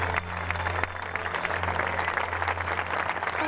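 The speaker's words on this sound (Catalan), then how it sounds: "Bravo, un fort aplaudiment." Steady applause from an audience at a school end-of-year party for infant and early primary classes, a continuous wash of clapping under a low steady hum.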